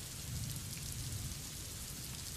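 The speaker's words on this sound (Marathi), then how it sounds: "कालपासून पुणे जिल्हाभरामध्ये पावसानं जोर हा घेतलेला आहे" Steady, heavy monsoon rain falls in Pune as an even, unbroken wash of rainfall at a moderate level, with no voices.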